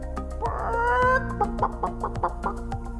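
A human voice imitates a hen clucking, giving a run of short, evenly spaced clucks over about three seconds, fairly loud and close with no other talk.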